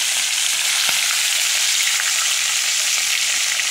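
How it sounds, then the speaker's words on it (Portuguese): Small fish fry in a pan over an open fire on a riverbank, giving a loud, steady hiss of sizzling oil that fills the whole stretch, with faint crackles and no talking. "Peixinho frito na beira do rio"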